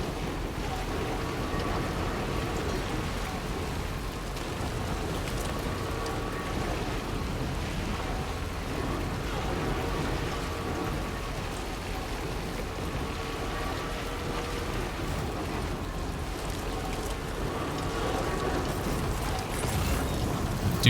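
Steady rain in the video game Death Stranding 2, a dense, even hiss of falling drops lasting throughout, broad and unbroken with no clear individual impacts.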